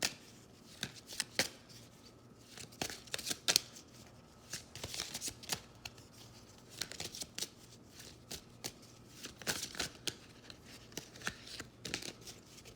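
Tarot cards being shuffled by hand: a long run of crisp, irregular riffling flutters and soft slaps, close and fairly quiet, with no talking.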